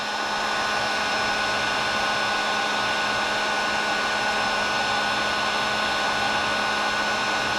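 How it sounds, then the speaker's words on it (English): A heat gun blows a steady, loud, unbroken roar of rushing air as it heats lead fishing jigheads before powder coating, close and continuous with no talk. "the heat gun isn't hot enough to melt the lead"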